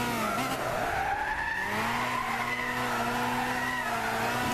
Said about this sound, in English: It doesn't drive around the corners, it slides around the corners.